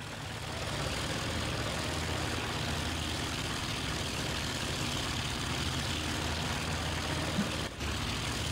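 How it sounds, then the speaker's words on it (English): Many WWII piston-engine fighters droning together in the IL-2 Sturmovik flight combat game, a steady dense engine roar filling the whole stretch with a brief dip near the end, no voices. "There are a lot of aircraft in the air."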